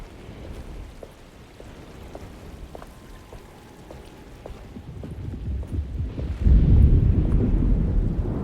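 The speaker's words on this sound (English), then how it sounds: "Just keeping an eye out for the storm" A thunderstorm from the game Alone in the Dark brings steady rain hiss and a deep low rumble of thunder that swells loudly in the last couple of seconds.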